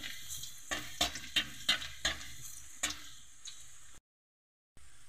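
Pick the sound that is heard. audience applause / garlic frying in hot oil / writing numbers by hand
garlic frying in hot oil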